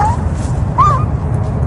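A newborn puppy whimpers among bushes beside a house wall on an empty lot, one thin high cry near the start and a second rising-falling whine midway, faint over steady low background rumble.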